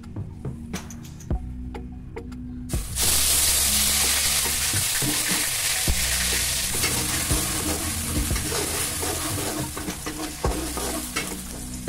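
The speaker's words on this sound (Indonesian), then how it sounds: "aku mau tumis bumbunya tadi yang udah aku haluskan" Ground spice paste hitting a hot pan and sautéing, a loud burst of sizzling that starts after a few clicks of a utensil and holds steady with stirring scrapes throughout.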